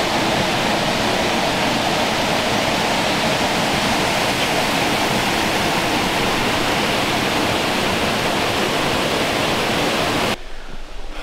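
Loud, steady roar of a waterfall along a hiking trail, a dense continuous rush of falling water filling the whole scene until it cuts off abruptly near the end.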